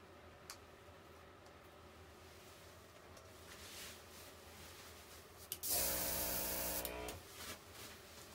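An airbrush sprays dye for creative dog grooming, a faint soft hiss under low room noise that swells into a louder burst of spray for about a second and a half.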